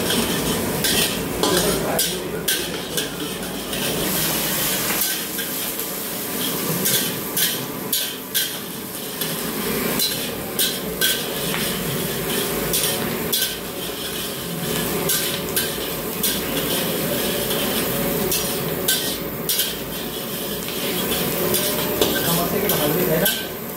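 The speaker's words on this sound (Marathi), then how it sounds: "याला थोडा किलो फ्राय करून घ्या. Golden fry." Food fries until golden in a pan at a farm house gathering, sizzling continuously under repeated scraping and stirring with clinks of utensils against the pan, with occasional voices nearby.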